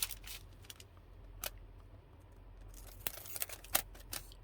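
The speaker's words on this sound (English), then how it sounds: "I'm just going to cut off a piece" Scissors cutting a piece of sticky-backed paper for a vintage junk journal: a few quiet, sharp snips spread out in time, with the last cluster coming quickly together, close and faint with no talking.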